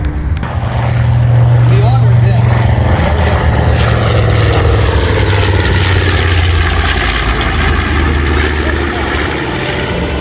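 A propeller warplane roars loudly overhead at an airshow, its engine drone rising and sustained as it simulates a dive bombing attack on a mock warship.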